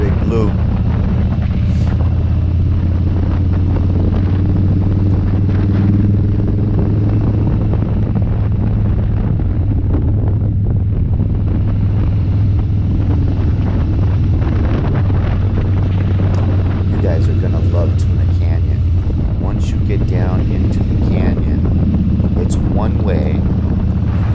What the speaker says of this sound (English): I'm riding a real cruiser.